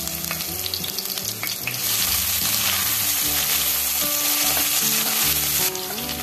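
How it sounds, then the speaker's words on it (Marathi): Crushed garlic, ginger and green chilli hit hot oil with cloves, frying for a green-masala chicken dish; a loud, close, steady sizzle swells after a couple of seconds, with stirring clatter and no speech. "त्यानंतर घालूया ठेचलेला लसूण, ठेचलेला आलं आणि ठेचलेली मिरची"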